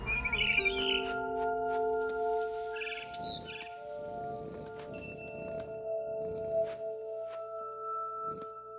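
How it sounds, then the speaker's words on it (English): A barn swallow in the video game What Remains of Edith Finch gives a few short, bright chirps, a quick burst at the start and another midway, over sustained musical drones and soft ambient rustling. "Then I heard chirping outside my window. It was a barn swallow going back to her nest."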